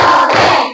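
A school group claps hands together on a count, one loud, dense burst of many hands at once, close and filling the space.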